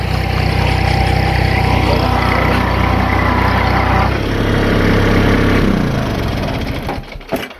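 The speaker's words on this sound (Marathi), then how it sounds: "पाहू शकते ट्रॅक्टर आहे चाललेलं आहे" A tractor engine runs steadily and loudly close by, its low rumble shifting pitch partway through before tapering off near the end.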